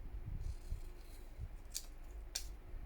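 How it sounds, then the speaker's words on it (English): Two crisp snips of scissors cut through a piece of material in a quiet studio, one near the middle and one toward the end, with faint low handling noise between. "I'm going to trim off this piece"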